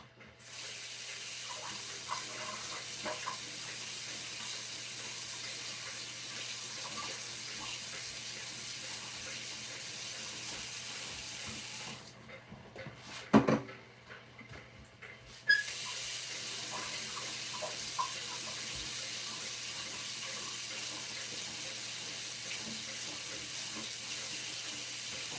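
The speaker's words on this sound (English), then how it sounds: "when you get them canned goods, always rinse off your top." Tap water running steadily to rinse the tops of canned goods, a continuous close hiss that briefly drops out and is interrupted by a couple of clattering knocks before the flow resumes.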